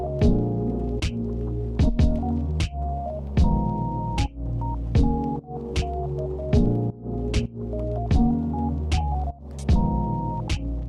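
A sewing machine stitches a dress seam up the waistline, its motor humming in steady bursts with rhythmic needle thumps, pausing briefly now and then before running on, loud and close.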